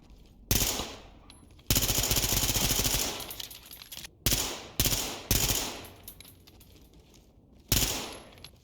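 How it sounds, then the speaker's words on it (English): Bursts of SMG fire in the tactical shooter Ready or Not crackle in quick automatic strings, some sustained for over a second and others short, each trailing off with a decaying echo, with no talk over them. "it shoots fast enough to make you feel like you're at least hit"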